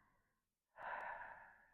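A faint, steady exhale of breath during a core exercise, following a brief pause after softer breathing, breathy and close but quiet.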